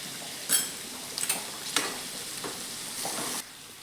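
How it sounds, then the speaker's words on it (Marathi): A spiced rice mixture with biryani masala, turmeric and coriander for matar paneer pulao is stirred in a hot pan, soft sizzling under a few quick spatula scrapes and taps, close and fairly quiet, no speech. "हलवून घेऊया सगळं व्यवस्थित"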